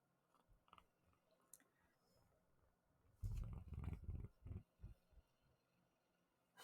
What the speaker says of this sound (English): I hope you can hear some purrs